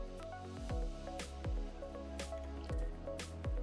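Thick CDEA (coconut diethanolamide) is poured into a batch of homemade liquid detergent, giving about half a dozen wet squelching drips and plops at a steady rhythm, close and moderately loud, with no talk.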